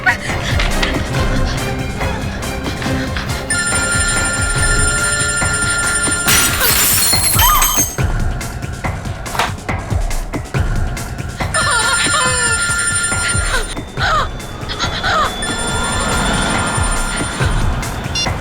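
A telephone rings repeatedly in bursts over a loud, busy background of rumbling noise and clatter.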